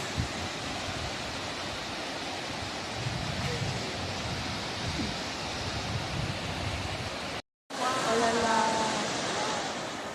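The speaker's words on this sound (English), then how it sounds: "We are at Thunder Creek Falls." Steady broadband roar of the 28-metre Thunder Creek Falls waterfall near the Haast River in New Zealand, with wind buffeting. Quiet speech is mixed in, and after a brief dropout the roar returns louder.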